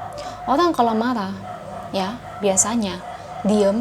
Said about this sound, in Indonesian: itu anjing tetangga saya ngegonggong terus dari tadi ya